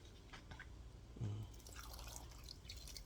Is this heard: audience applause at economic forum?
no